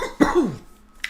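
A single harsh, close cough with a rough throaty rasp, followed by a quieter breathy tail and brief trailing sound, heard alone.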